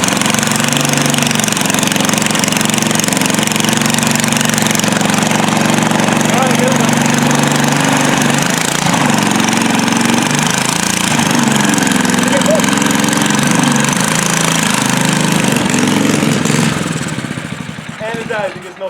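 Small engine runs on leftover fuel in the carburetor with no throttle, a steady, loud, close idle with a rough low throb that fades and dies out at the end, with talking over it.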